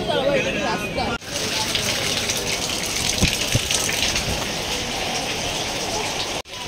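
Steady heavy rain or water gushing down continuously, loud and close, with a brief cut near the start and end.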